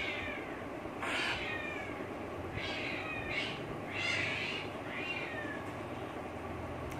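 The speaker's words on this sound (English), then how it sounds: "fighting cats outside." Cats yowl and caterwaul outdoors in a fight, several harsh rising wails and screeches arriving in bursts at moderate distance over steady background noise, with no talking.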